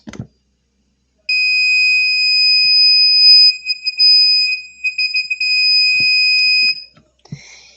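A steady electronic buzzer tone from an Arduino RedBoard circuit sounds continuously for several seconds, with a brief dip midway, then cuts off; faint handling clicks before and after.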